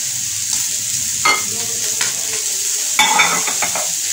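Carrot and cabbage for a vegetable samosa filling stir-fry in a hot pan, with a steady close sizzle and two brief bursts of spatula scraping and tossing.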